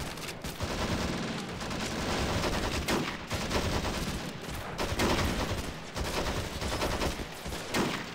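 Rapid bursts of gunfire from weapons in Planetside 2, rattling out in dense overlapping volleys with short gaps, loud and close throughout.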